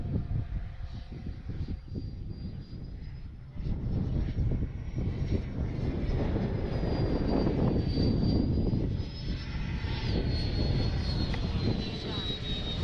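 A Freewing F-22 Raptor HP electric ducted-fan model jet on 6S power flying in windy conditions under a clear blue sky, a loud sustained whooshing whine that swells and fades as it passes, with someone talking over it.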